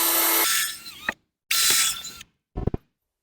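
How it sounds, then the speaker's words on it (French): Power drill driving screws into wooden wall planks for an accent wall, heard as two loud whirring bursts about a second each, then a shorter stuttering burst, with silent gaps between and no talk. "On va visser les trous."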